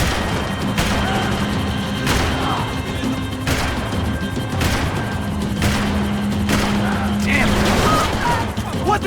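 Rapid gunfire aimed at a helicopter in Max Payne 3, with heavy shots cracking out in a regular rhythm about every second over a constant rumbling din, and voices faintly mixed in.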